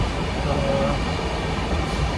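A moving train rumbles steadily from inside a carriage, a continuous loud roar with faint rattling.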